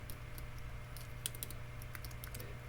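Quick, light taps on a computer keyboard, irregular bursts of keystrokes at close range in a quiet room with a low steady hum underneath.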